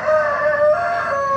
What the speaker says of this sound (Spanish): ahí están los gallos